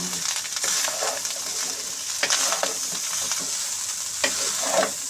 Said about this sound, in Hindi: अच्छे तरीके हिला लेने